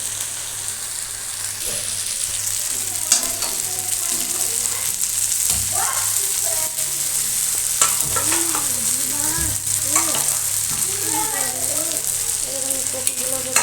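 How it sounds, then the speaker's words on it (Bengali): Spice paste frying in released oil for an egg, potato and cauliflower curry, a steady loud sizzle with repeated stirring scrapes throughout, without talk. "আর এদিকে মশলাটা প্রায় কষানো হয়ে গেছে তেল ছেড়ে দিয়েছে"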